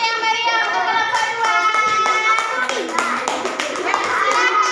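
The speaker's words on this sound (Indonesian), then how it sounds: "Berikan tepuk tangan yang meriah untuk kelompok" Classroom applause for a presenting student group, lively clapping from a room of children with excited voices and chatter mixed in throughout.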